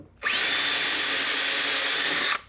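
A drill bores a pilot hole in deck wood through a Kreg hidden fastener deck jig, a single steady high whine lasting about two seconds that starts and stops abruptly, close and alone.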